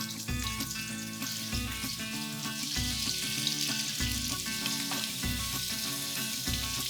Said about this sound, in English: The squid goes in next.